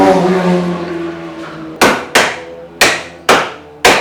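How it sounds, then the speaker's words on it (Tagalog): A hammer drives nails in five sharp, ringing strikes at uneven intervals, close and loud, following a fading metallic ring. "Sino marunong magmartilyo?"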